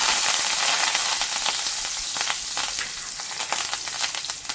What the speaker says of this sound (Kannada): ಬೆಳ್ಳುಳ್ಳಿ ಸ್ವಲ್ಪ ಫ್ರೈ ಆದಮೇಲೆ ಬೇವಿನ ಸೊಪ್ಪನ್ನು ಹಾಕ್ತೀನಿ.